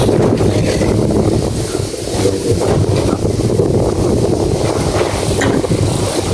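Strong wind roars steadily and loudly across the microphone outdoors, a constant rumbling buffet with no pauses and no voices.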